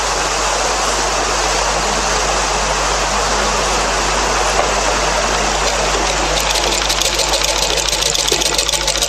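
A sewing machine stitching around a garment neckline in a tailoring lesson, a continuous fast mechanical whirr that holds steady and grows slightly busier toward the end, close and loud with no talk.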